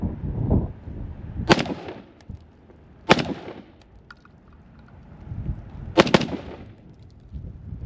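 A SCAR Heavy rifle fires three sharp, loud single shots a second or more apart, fired unbraced, with quieter handling noise between the reports.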